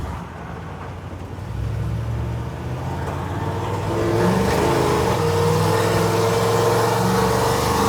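A car fitted with an Edelbrock VRS-4150 650 CFM carburetor, being tuned, drives along with a steady engine drone that swells as it accelerates, rising in pitch and staying loud and close throughout.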